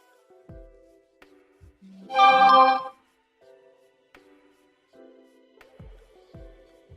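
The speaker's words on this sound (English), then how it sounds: "Yup, my phone right there. It's giving me some updates" A phone plays a short burst of notification tones, a bright chiming blip in the middle of a quiet room with faint scattered taps and low thumps.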